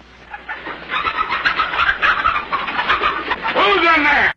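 Chickens cluck and squawk close by in a busy, continuous stretch, with voices talking over the birds.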